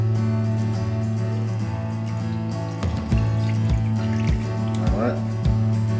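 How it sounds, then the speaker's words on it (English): Half a cup of red wine poured into a cast iron pot holding a chuck roast, a faint trickle and splash under a steady hum and rhythmic clicking, with someone talking at the start. "now I'm gonna come in here with this wine"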